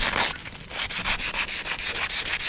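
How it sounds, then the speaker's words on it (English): Sandpaper rubbed by hand over a motorbike handlebar on a 50cc scrambler, a rhythmic back-and-forth scratching of about a dozen quick strokes, close and steady, with no voices. "we're just sanding this down so the glue has got something to stick to"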